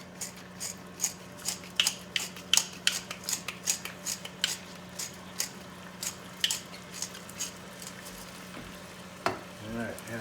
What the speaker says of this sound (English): it starts to sizzle